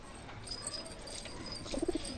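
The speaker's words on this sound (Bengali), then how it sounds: "আর এখানে কিছু পায়রা রয়েছে" Tournament pigeons coo softly in a few low throaty notes near the end, over faint background hiss and scattered chirps.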